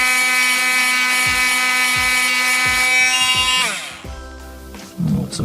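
An oscillating multi-tool cuts into a piece of aluminium, a loud high buzzing whine with a regular pulsing beat that stops abruptly partway through, leaving faint handling noises.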